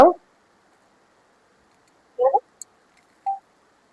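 Two short bursts of dialing tones, a few keypad beeps with a tiny click between them, then a final short tone, all separated by silence.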